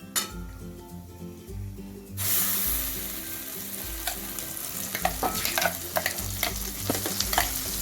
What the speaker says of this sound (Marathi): मसाला चांगला आपल्याला तेल सुटेपर्यंत परतून घ्यायचा